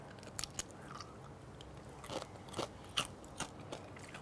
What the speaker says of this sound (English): this variety, they bake it so it's crunchy